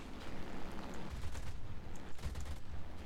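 Rapid cannon fire from an Arado Ar 196 A-3 floatplane in the War Thunder video game, dense and continuous bursts with low booming thuds under steady engine noise.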